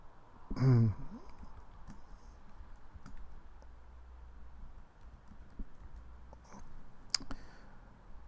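Keystrokes on a computer keyboard as a search is typed, a scattered series of close clicks after one louder thump at the start, over low steady room hum.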